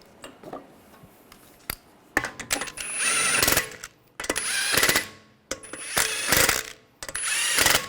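A ratchet snugging down bolts on a 2009-2010 BMW 535i xDrive with a 3.0L inline-six, loud close bursts of rapid clicking that start and stop repeatedly, with short pauses between runs.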